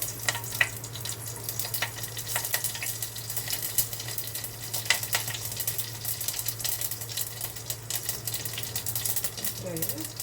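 Tempering spices crackle and sizzle in hot oil in a pot on a gas stove, a faint, continuous frying hiss with scattered pops under a low steady hum.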